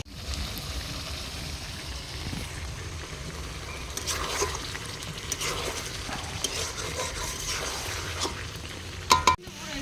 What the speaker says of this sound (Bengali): এই যে আলুটা দিয়ে সুন্দর করে কষিয়ে নিচ্ছি